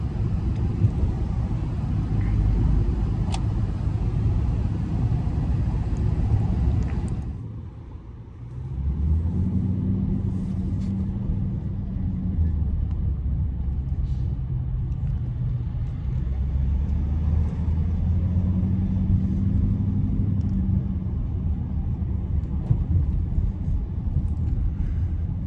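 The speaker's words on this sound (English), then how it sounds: "There's a lot of traffic right now." A car driving in road traffic, heard from inside as a steady low rumble of engine and road noise with a brief dip partway through, then continuing evenly.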